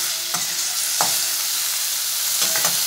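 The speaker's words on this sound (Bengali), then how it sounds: "এবার নেড়ে কষিয়ে নেব।" Spice paste for pointed gourd korma sizzles and fries in a pan while a spoon stirs it in a few distinct scraping strokes, close and alone.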